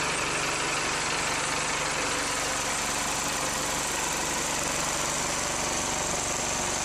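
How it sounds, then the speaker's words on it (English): A 1986 Chevrolet P-30 diesel engine idles steadily just after a cold start on a block heater, with a constant close, dense clatter and rumble that does not change for the whole stretch. "that's what it sounds like. It sounds like a diesel. Which makes sense because it is."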